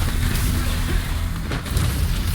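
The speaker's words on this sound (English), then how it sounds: "But artillery barrage inbound. A second barrage." Dense, continuous rumbling booms from an artillery barrage in the war video game War Hospital, loud and heavy throughout with no speech.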